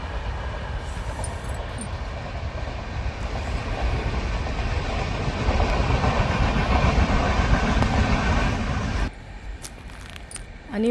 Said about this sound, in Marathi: हे बघा ट्रेन आली ट्रेन ओ हो हो फास्ट हो